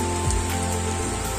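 Night rain at a rural quarantine area falls as a dense, steady patter on surfaces, close and continuous, with a few drop splashes and no voices.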